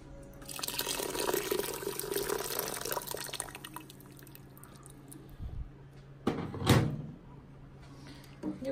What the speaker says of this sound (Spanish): Yo creo que le voy a echar un poquito más agua, porque sí son muchos mariscos.